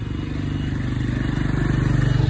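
An overloaded motorbike's engine drones steadily close by in Vietnam, its low throbbing growing slightly louder, with no voices over it.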